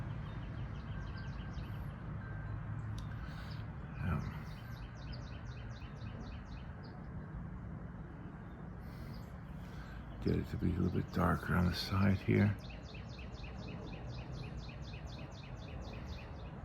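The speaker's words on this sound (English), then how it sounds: "Hear that bird? Isn't that cool?" Outdoors at a rainy art walk in Ocala, a bird chirps in repeated high, quick phrases in the background while someone talks, with a brief burst of louder clattering midway.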